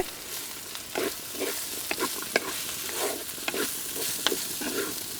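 Dry mutton pieces fry in a pan with ginger-garlic paste, giving a continuous close sizzle while a spoon scrapes and turns them in repeated strokes.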